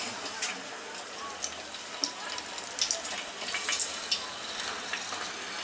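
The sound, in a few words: coriander leaf pakora frying in oil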